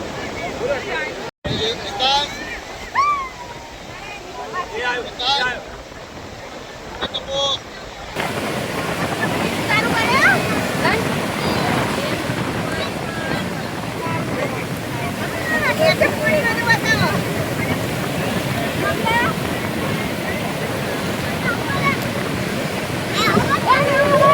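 Sea waves washing onto the shore at Dwarka, a continuous rushing surf with wind buffeting the microphone, loud and close, with voices talking over it.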